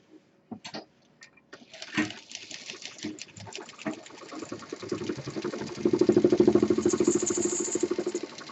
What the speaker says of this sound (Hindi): बाकी कपड़ा अंदर मोड़ के मशीन चला देंगे